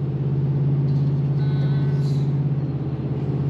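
A small Ford F-150 towing maximum weight rolls down a 6% mountain grade, a steady close engine drone with a low constant hum and a faint brief whine, no talk.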